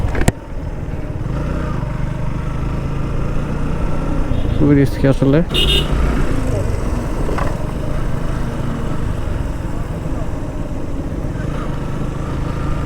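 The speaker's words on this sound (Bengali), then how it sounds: "খুব সাবধানতার সাথে বাইক রাইড করতে হচ্ছে" A motorbike carrying a pillion passenger climbs a winding, up-and-down hill road between Kaptai and Rangamati in third gear, its steady engine drone running under continuous talk, with a brief louder burst midway.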